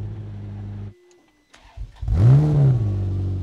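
A Ferrari 430 Scuderia GT3 race car's engine idles with a deep rumble, briefly cuts to near silence, then catches and rises in a loud, close rev before settling back into a throaty idle.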